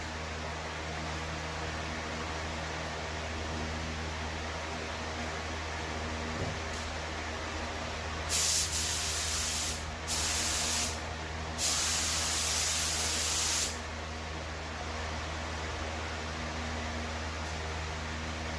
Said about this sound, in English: I'm gonna start the spray